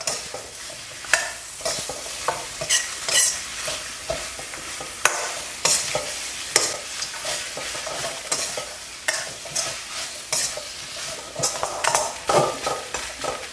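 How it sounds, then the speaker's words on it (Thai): Boiled pork ribs being stir-fried in fragrant cooked curry paste in a pan, with a busy hiss of frying and frequent rapid scraping and clanking of the spatula against the pan, close and continuous, with no talking. "ใส่ซี่โครงหมูที่เราต้มไว้ลงไป ผัดคลุกเคล้าให้เข้ากันครับ"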